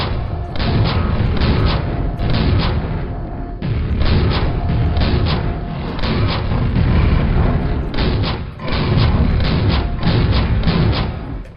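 A shotgun fires repeatedly in the video game Quake, with heavy booming blasts that come in quick succession over a dense, loud rumble and leave only brief gaps.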